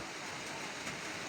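Steady rain pours on a rainy day, a continuous dense hiss with no pauses, close and fairly loud.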